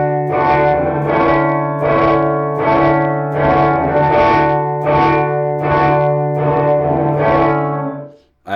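An electric guitar plays through a reverb pedal with the tone knob turned down, giving a mellow, washy sound. About nine evenly spaced chord strums ring out loud and alone before fading at the end.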